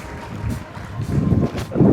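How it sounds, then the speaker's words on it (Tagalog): Strong gusts of wind blast against the microphone on an offroad trail at the Edge of the World, low booming rumbles swelling and fading over a couple of seconds in uneven surges. "Lakas ng hangin dito guys."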